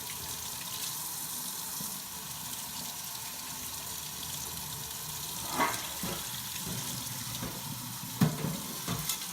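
Hot water runs from a tap into a kitchen sink as cooking juices from chicken are poured down the drain, a steady close rushing hiss with a few brief splashes and clunks.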